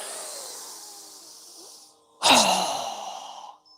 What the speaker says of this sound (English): inhale through your nose. Strong exhale.